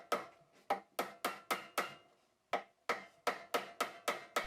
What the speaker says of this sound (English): Then I simply hammer them into position.